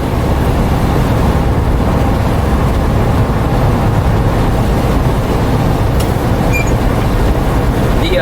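A 1977 Volkswagen Bay Window Westfalia camper van with torsion bar suspension driving, heard from inside as a loud, constant broadband road and engine rumble with rattles, steady for the whole stretch, no talking.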